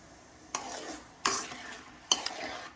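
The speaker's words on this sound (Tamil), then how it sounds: "ஸ்பூனை விட்டு கரைச்சி கூட விட்டுடலாம்." A spoon clinks against a cup three times while stirring in sugar, spaced about a second apart, over quiet background hiss.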